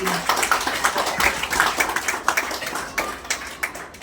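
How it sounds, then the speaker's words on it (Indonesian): Wedding guests clap for the groom during the ring ceremony, an uneven scatter of claps of moderate loudness with faint chatter underneath. "Oke, beri tepukan bagi pengantin lelaki."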